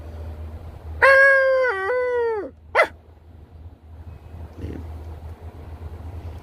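A dog howls nearby in one long wavering cry, followed by a short second yelp, then quieter background noise and a faint later sound.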